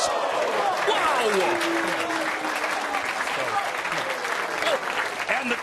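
A bowling crowd at a PBA Players Championship breaks into loud, sustained applause and cheering just after a clutch tenth-frame strike, with a commentator's voice carrying over the clapping.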